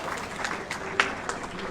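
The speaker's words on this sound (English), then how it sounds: "Students, please keep clapping." Students applaud at a university convocation in Pune, with scattered clapping from a crowd in a large hall and a voice speaking over it.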